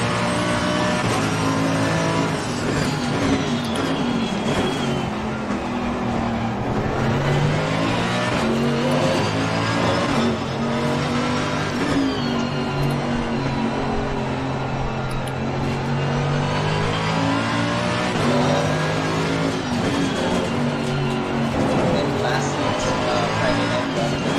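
Race car engines in a sim racing video game rev and shift continuously, their whine rising and falling through gear changes, loud and steady while a person talks over them.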